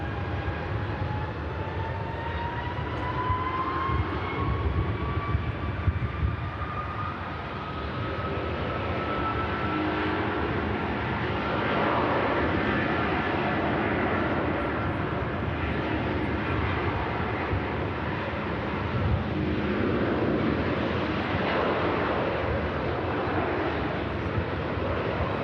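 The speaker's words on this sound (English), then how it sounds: "Blasting out Rolls-Royce power. on the Air Tanker A330-200," An Air Tanker Airbus A330-200 with Rolls-Royce engines departs, giving a steady, loud jet roar with a rising whine that holds throughout, broad rumble filling the air continuously without talk.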